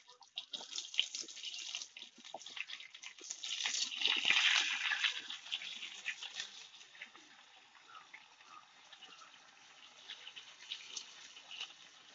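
Mango pieces and mustard seeds drop into hot mustard oil, setting off a bright, crackling sizzle that swells to a peak, then eases into a steady, softer hiss close by.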